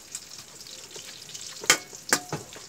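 Clams frying in a pan with lemongrass and ampalaya, a soft sizzle broken by a few sharp crackling pops and stirring scrapes.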